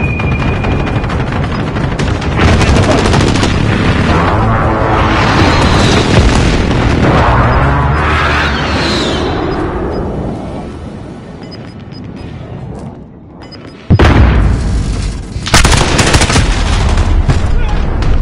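Precision airstrike explosions in a console shooter game, heard as a loud barrage of booms and rapid gunfire that rolls on, fades and drops out, then returns with another heavy blast.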